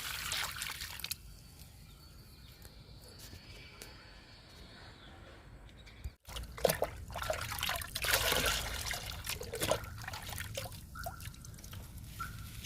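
Liquid fertilizer is poured from a container onto a healthy potted flowering plant, a soft trickle at first that swells into a fuller, splashing pour after a brief pause.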